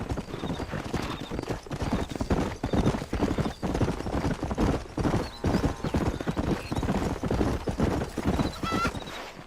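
Horses in the Red Dead Redemption video game trot with steady clip-clop hoofbeats, with repeated neighs and whinnies rising above the hooves, loud and close across the whole stretch.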